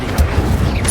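An Incendio fire spell cast in Hogwarts Legacy: a brief, punchy burst with a low thump at the start, followed by a fiery swish within loud game action.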